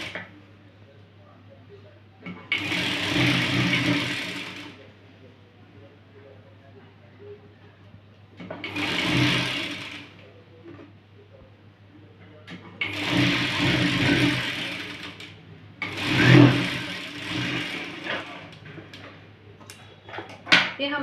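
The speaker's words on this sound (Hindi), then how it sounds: "इसको मैं इसके ऊपर रखते हुए थोड़ा फोल्ड करके इसके ऊपर हमें कच्ची सिलाई कर लेनी है।" A sewing machine runs a basting stitch through salwar fabric layered with buckram, whirring in four separate bursts of a few seconds each with pauses between them.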